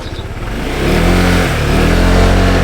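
A motorcycle engine rumbles loudly and close, revving up after the first second as the bike moves to another parking spot on a road trip from Caloocan to Pangasinan, then holding a steady drone.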